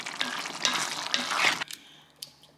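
Meat sauce for spaghetti on the stove, bubbling and sizzling steadily in a pot for about a second and a half before dropping off to a few faint clinks and quiet room sound.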